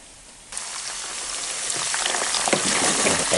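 Food frying in small pans at a field kitchen, a sudden burst of crackling sizzle that starts abruptly and grows louder, dense and close, with no voices.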